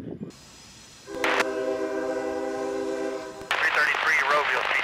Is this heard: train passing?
yes